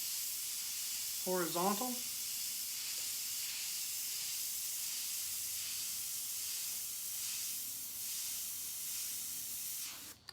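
Airbrush spraying paint onto stripes of a suit on a portrait, a steady soft hiss running throughout, with a brief spoken word near the start.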